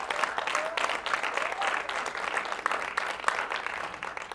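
A church congregation gives a strong, sustained round of applause during a sermon, dense clapping that stays loud and even from start to finish.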